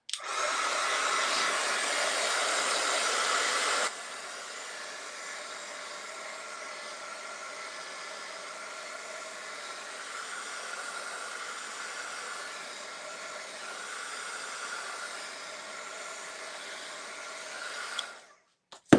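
A hair dryer blows steadily to dry Posca paint marker on paper, a loud airy whoosh that drops to a lower setting after a few seconds, runs evenly, then clicks off.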